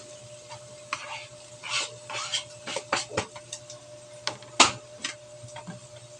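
Longganisa sausage frying in a pan, with scattered sharp pops and crackles at an uneven rhythm over a low steady hum, close and fairly quiet.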